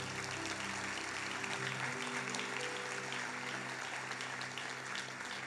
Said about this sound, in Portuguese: Quem crê, aplauda ao Senhor nesse momento.